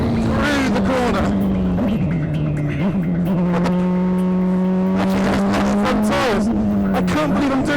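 A DeltaWing race car on a circuit brakes, turns in and gets back on the throttle through a corner, its engine a close, loud, droning tone that dips and climbs, with someone talking over it.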